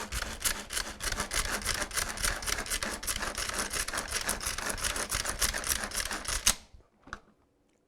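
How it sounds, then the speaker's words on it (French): Fresh parsley is chopped in a Turbo Chef manual pull-cord chopper, giving a dense, fast rattling whir of blades spinning in a plastic bowl that runs steadily for about six seconds, then stops abruptly. "on va mettre le persil dans le Turbo Chef"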